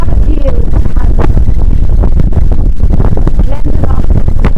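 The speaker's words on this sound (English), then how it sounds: "Very windy" Strong wind at a viewpoint above Glendalough Lake in Ireland buffets the microphone in a loud, continuous roar, with faint voices barely audible beneath it.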